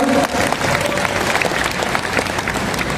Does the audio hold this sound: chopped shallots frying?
no